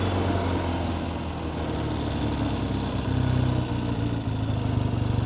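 A classic Triumph TR6R 650cc air-cooled parallel twin motorcycle, a coil-ignition bike, runs steadily with a low, even engine drone and a slight rise in throttle midway, heard up close with no talking.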